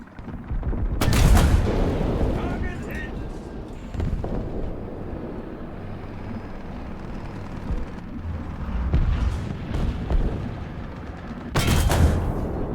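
Tank cannon shots in War Thunder, played as a large light tank: a loud booming report near the start and another near the end, with engine rumble and scattered battlefield firing in between.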